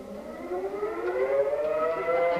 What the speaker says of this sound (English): Is that a tornado warning? Did I hear a siren?